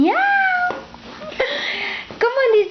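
A voice imitates a cat's meow in a playful children's animal-sounds song: a few rising, drawn-out mews, loud and close, over light musical backing.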